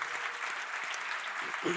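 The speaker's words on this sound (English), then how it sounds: "a big round of applause for the orthopedic people in this room" Steady applause from an audience fills the short stretch, dense and continuous without letting up.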